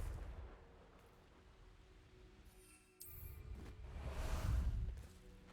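A Confringo blast spell cast in the Hogwarts Legacy video game, a whooshing fiery burst that swells into a rumbling explosion, fairly loud and alone after a quieter stretch.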